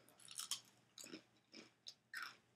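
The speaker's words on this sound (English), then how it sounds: "I can eat it, it's crunchy." A crunchy lime-flavoured chip is bitten and chewed close up: several sharp crunches in uneven bursts with short pauses between them, and no talking.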